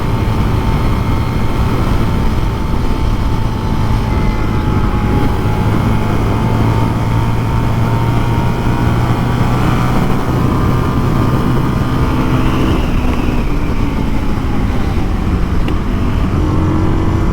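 A 2019 Indian FTR 1200 S motorcycle is ridden hard on a race track. Its engine drones loud and steady throughout, with the pitch climbing and falling through the run and no voices.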